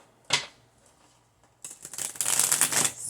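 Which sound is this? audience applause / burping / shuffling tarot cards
shuffling tarot cards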